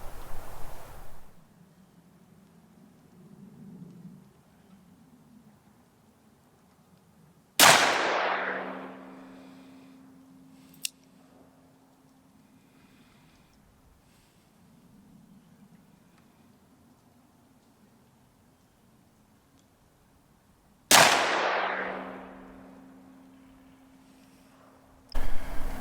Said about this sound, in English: I'm going to start out doing just a little bit of bullseye shooting on a target